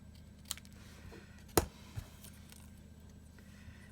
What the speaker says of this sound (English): These are the most wonderful craft scissors ever.